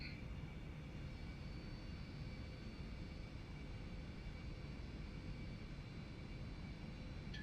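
Aerobask EA50 light jet in the X-Plane 11 flight simulator rolling for takeoff on a cold runway, a steady broadband engine roar with a faint high whine, constant and unbroken throughout.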